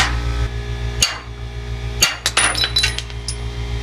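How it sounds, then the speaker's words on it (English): Sharp metallic hammer taps knock out a front trailing arm bushing on a Volvo 240, several distinct strikes at about one-second intervals, then a quicker cluster of lighter clinks, all close over a low steady hum. "So what I'm going to have to do is just give it a little gentle tap and pull it out."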